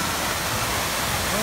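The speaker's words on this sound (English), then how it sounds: "Just chilling this waterfall." Steady rushing waterfall at EPCOT in Orlando, a dense, even wash of falling water that fills the whole moment without pause.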